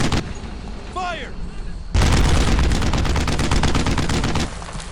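Dense World War II gunfire from the Brothers in Arms: Earned in Blood video game, a sustained roar of rapid rifle and machine-gun bursts that jumps louder midway and keeps pounding, with shouted voices mixed in.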